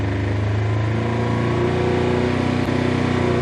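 A Polaris General XP side-by-side engine with an HMF dual quiet loop exhaust runs at steady, raised revs, a continuous loud droning hum that builds slightly with no speech over it.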